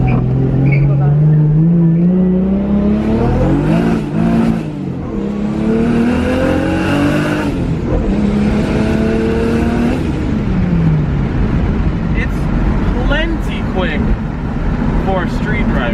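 Toyota Supra revving hard in first gear, a loud rising engine note climbing through the revs with tire-shredding launch character, close by, with a voice talking over it.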